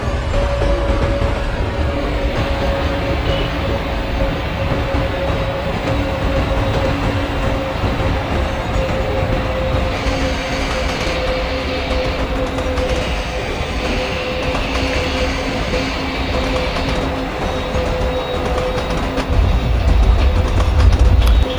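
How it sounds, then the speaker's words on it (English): A passenger train in the MSTS simulator, the 51809 Kanpur–Tundla Fast Passenger, rolls and slows on its line near a junction, with a steady loud rumble and a faint tonal whine throughout, heavier at the end; no voices. "so let's slow up the train."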